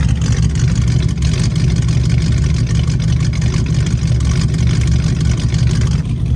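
A 1967 Ford Mustang engine running after a stuck carburetor needle and seat was replaced, a loud, steady, low rumble that holds even throughout.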